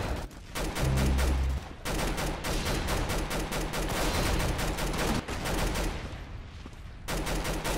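Quick rhythmic gunfire from Roblox Arsenal rattles in long runs of evenly spaced shots, loud and close, broken by brief pauses before the firing picks up again.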